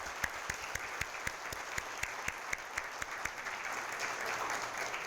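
An audience applauds the program director and staff at an adult degree honors and graduation ceremony, sustained hall applause with some distinct nearby claps, moderately loud and holding steady.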